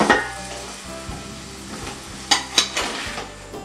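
Chopped tomatoes sizzle steadily in hot frying oil with peppers and celery, a constant crackling hiss broken late by a few sharp clinks of a utensil against the pan.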